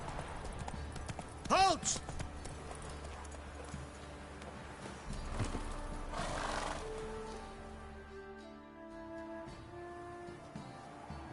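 Roach, a horse in the video game The Witcher, gallops and neighs in a short sharp burst amid game ambience and music, with a character shouting and voices talking.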